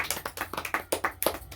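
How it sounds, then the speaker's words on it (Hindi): Loud, energetic applause from a church congregation, a run of sharp irregular hand claps bursting in quick clusters with no talk over them. "जोर से ताली बजाए।"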